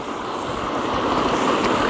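Water flows steadily through a small pool along the Appalachian Trail, a continuous broadband rush that holds close and even throughout and grows slightly louder toward the end, with no talk.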